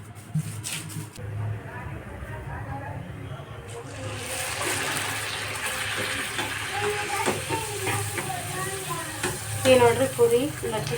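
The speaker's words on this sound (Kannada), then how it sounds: "ಹಾಕಿ ಕರಿಯಾಕತ್ತೀನಿ ಮಸ್ತ್ ಬರತ್ತವು ಉಬ್ಬಿ ಉಬ್ಬಿ ಉಬ್ಬಿ" Puris fry in hot oil in a home kitchen, a continuous bubbling sizzle that grows busier as they puff up, with someone talking over the cooking.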